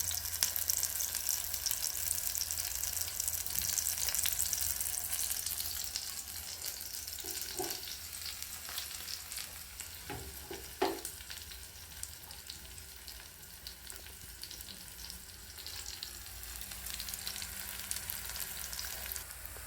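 Coconut oil fries in a pan for a home baby cold remedy, giving a continuous bright hiss with a few soft knocks in the middle and no voices.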